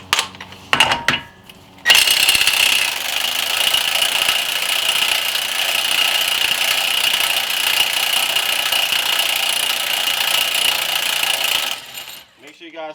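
An axle nut on a 2008-2012 Chevy Malibu is loosened during a hub bearing replacement, using a 36 millimeter socket. A loud, sustained rattling power-tool burst lasts about ten seconds after a few short knocks.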